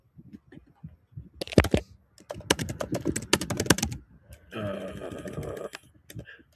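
Typing on a small computer keyboard, bursts of close rapid key clicks with short pauses, followed by a denser rattling stretch of keystrokes.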